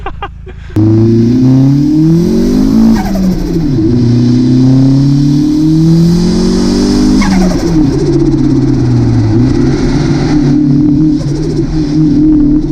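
An old turbo Mitsubishi Lancer drives on gravel, its engine revving loud and close in repeated rising and falling surges over a continuous rumble.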